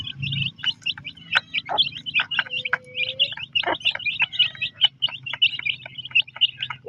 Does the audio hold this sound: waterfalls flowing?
no